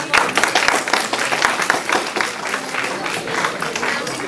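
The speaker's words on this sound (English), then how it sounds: "Please give a huge round of applause" Audience applause fills a guest lecture hall for an Intellectual Property Day event, steady, dense clapping from a crowd, loud and continuous throughout.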